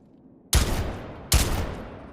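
Two loud, sharp gunshots from a rifled-slug shotgun in the video game Wardogs, about 0.8 seconds apart, each with a long decaying echo that rings out alone.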